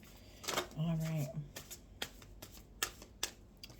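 A deck of tarot cards is shuffled at close range: a quick riffling burst followed by several soft, separate card snaps and taps, with a brief murmur of a voice.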